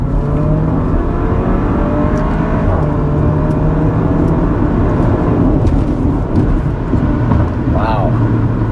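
2020 Porsche Macan engine pulling hard at full throttle, a loud, continuous rising roar heard from inside the cabin, with a rising gear-change sweep near the end and a voice over it.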